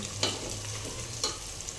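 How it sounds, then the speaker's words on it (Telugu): Masala spices for a coconut pulao frying and being stirred in a hot pan, a steady close sizzle with two sharper scraping stirs of the spoon against the pan. "మాడు పట్టకుండా కలుపుకోవాలి మసాలా ఎందుకంటే మాడు పట్టేసిద్ది బాగా కదిలించుకోవాలి"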